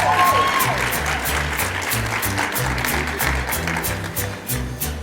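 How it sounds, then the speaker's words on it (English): A crowd at a cultural closing celebration applauds warmly, sustained many-handed clapping over a steady low rhythmic music beat, loud and continuous throughout. "Round of applause."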